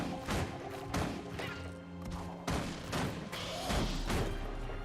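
Repeated heavy explosions from grenades in a Guild Wars 2 battle, several loud booming blasts spaced across a few seconds amid ongoing combat noise.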